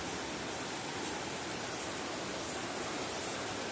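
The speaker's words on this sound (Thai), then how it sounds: "น้ำไหลมาจาก น้ำตกนะครับ" Water rushes down a waterfall at Kaeng Hu Rae in Phatthalung, a dense, even roar of falling water that holds steady throughout.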